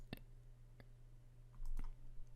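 A few sharp, isolated computer mouse clicks while operating a Windows 10 laptop or PC, close and quiet, over a steady low electrical hum with no talking.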